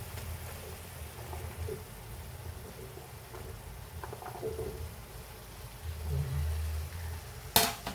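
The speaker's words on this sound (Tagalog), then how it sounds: "So, haluin lang natin ng haluin." Tofu being stirred in a pan while sautéing bottle gourd with tomatoes: soft scraping and clinking of a utensil against the pan over a low cooking background, with a sharp clatter near the end.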